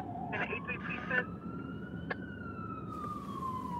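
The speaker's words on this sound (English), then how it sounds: "we can hear the ambulance coming" An ambulance siren in a Brooklyn neighborhood wails in a slow rising sweep, heard at moderate distance over steady traffic rumble, with brief radio-like chirps and a hiss near the end.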